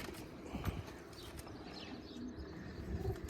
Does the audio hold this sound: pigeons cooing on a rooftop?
yes